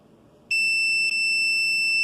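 A multimeter on continuity test across a fuel pump relay from an Audi A6 gives a steady, clear electronic beep that starts about half a second in and holds to the end, with a tiny break partway through.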